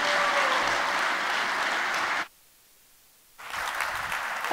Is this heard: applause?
yes